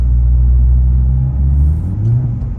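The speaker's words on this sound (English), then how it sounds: "I'm gonna lean into the boost a little bit right now." An Audi A4 turbo engine with a failing turbo, accelerating under boost in sixth gear: a loud, deep rumbling drone that dips and swells as the revs shift, close to the listener.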